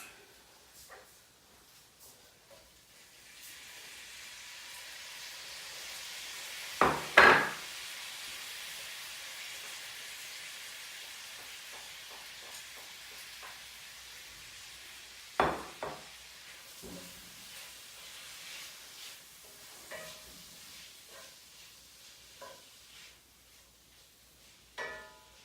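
Masala sizzling in a hot pan during curry cooking, a steady broad hiss running throughout with a few sharp louder crackles and clatters, no talk.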